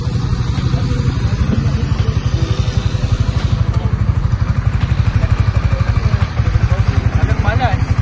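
A new motorcycle engine running at idle with a loud, steady low-pitched pulsing thump, close by, with people talking over it.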